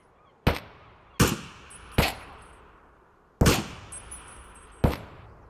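Five sharp, loud gunshot-like bursts ring out singly at irregular intervals, each with a short decaying tail, from a gun being fired in a video game.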